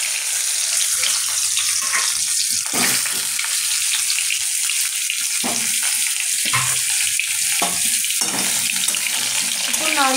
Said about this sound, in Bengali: আমগুলো এবার দিয়ে দেবো কড়ার মধ্যে।